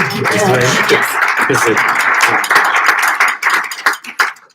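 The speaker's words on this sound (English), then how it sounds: "If everyone should do a round of applause, please." A crowd at a 2019 candidate forum applauds its sponsors, a steady wash of clapping from many hands that thins toward the end, with some talk mixed in.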